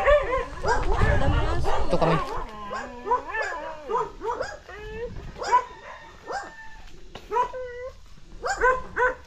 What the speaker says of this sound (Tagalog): May aso dyan.